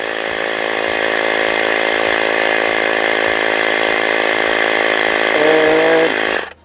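An Ansteker portable air compressor inflating a ball, its loud steady motor drone with a rapid pulsing chatter running unbroken for several seconds before cutting off at the end.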